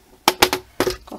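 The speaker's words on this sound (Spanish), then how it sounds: "voy a cortar estos rabines que me sobran aquí por los lados" Scissors snip through the leftover cord ends of a flat macrame bracelet: a few sharp, close cuts, the first two quick together and another after a short pause, with no talking.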